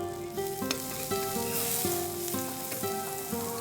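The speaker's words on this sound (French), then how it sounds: "On met juste un peu d'huile dans la poêle, un peu d'ail, l'oignon en une seule fois" Onion and garlic fry in oil in a pan with a steady, close sizzle, and a few brief clinks from the pan or a utensil mark the spattering. Music plays faintly underneath.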